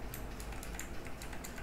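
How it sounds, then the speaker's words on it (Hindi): Mechanical computer keyboard typing during a CS:GO livestream, a quick irregular run of crisp clicky keystrokes, fairly faint and steady with no voices over it. "अब मैकेनिकल कीबोर्ड आती है आवाज"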